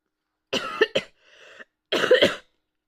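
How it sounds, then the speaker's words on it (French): A few close, sharp coughs in quick bursts from a person recovering from illness, a short pause with faint wheezing, then another cluster of coughs. "j'ai dit je suis plus malade, mais je tousse encore"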